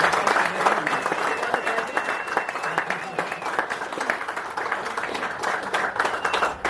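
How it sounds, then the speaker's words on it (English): A room of people at an angling grand final gives a sustained round of applause for the angler of the year, dense and fairly close, with cheering and talk mixed in throughout. "Final round of applause for our angler of the year"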